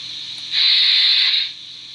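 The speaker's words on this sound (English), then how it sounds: "Steam release." A Märklin BR tank engine model train, 39648, releases a short burst of steam that hisses for about a second, soft and close, rising out of a quiet background and fading away.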